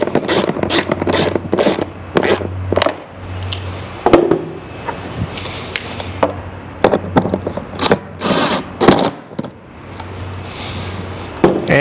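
A 10mm wrench tightens the mounting bolts of a dual saddle seat, giving close, repeated ratcheting clicks and rasping metal turns in short bursts.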